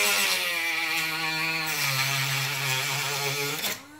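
A handheld rotary tool, an off-brand Dremel-style grinder, cuts through material with a loud, steady high-pitched whine whose pitch dips slightly midway before it winds down at the end.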